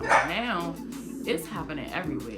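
A pet dog barks and yips a few times close by, its sharp calls mixing with someone talking over them.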